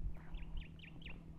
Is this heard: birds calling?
yes